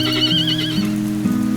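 A four-year-old Connemara mare whinnies once, a loud, close, wavering neigh that drops into a lower, rough nasal tail, set against steady rain-like background hiss.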